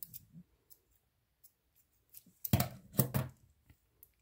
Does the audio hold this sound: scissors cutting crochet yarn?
yes